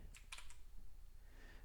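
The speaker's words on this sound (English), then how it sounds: "hold down the Windows key on your keyboard and press R" Two quick presses on a computer keyboard, the Windows key and R, a pair of close, crisp clicks followed by faint room hiss.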